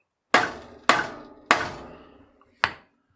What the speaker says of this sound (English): Okay, hammer time.